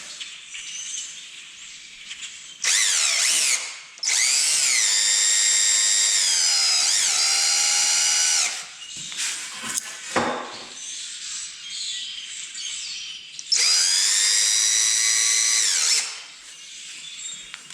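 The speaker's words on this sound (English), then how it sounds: "So now we just take our screws and start screwing" A power drill drives screws into a wooden DIY chicken roost, whining loudly in several long bursts that rise and fall in pitch, with quieter handling noises in the gaps.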